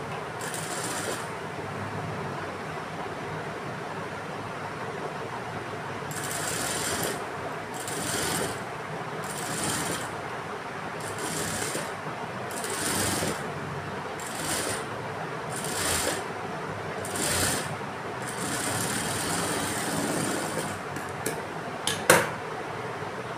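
A sewing machine runs in short repeated bursts while stitching a boat-neck long frock, stopping and starting in a loose rhythm with quiet handling between runs, close up and with no talk.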